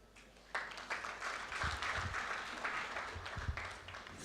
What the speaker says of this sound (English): That hand clap was for me, the MC, the guest of honor.